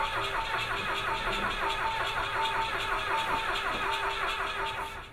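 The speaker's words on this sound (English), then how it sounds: "Okay, ignition, crank." An engine cranks over on ignition with a rapid rhythmic churning pulse that holds steady for several seconds, close and fairly loud, then fades slightly at the end.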